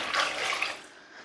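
A little water is poured into a cooking pot, a short bright gush lasting under a second that quickly fades.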